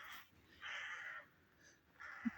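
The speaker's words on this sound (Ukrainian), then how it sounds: "зараз тільки ворони каркають із цих птахів" Several harsh crow caws ring out at a distance, spaced apart, in a quiet outdoor setting.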